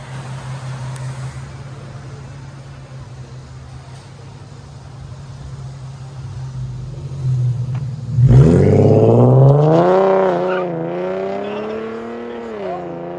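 The 3.7L V6 exhaust of a 2013 Infiniti G37X idles with a low, steady drone, then revs loudly and sharply, rising and falling in pitch through a few throttle blips.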